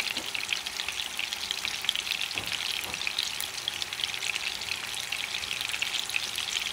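Large meatballs frying in a pan: a steady, moderately loud sizzle with fine spattering crackles throughout, close up, with no talking.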